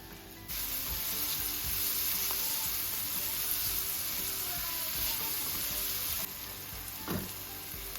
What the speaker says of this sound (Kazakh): Табаға май құйып, пиязымызды қуырамыз.